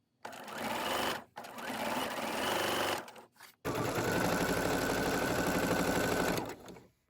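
Sewing machine stitching scrap-fabric patchwork through a quilting foot, a steady close mechanical whir in three long runs broken by short pauses, with no talk.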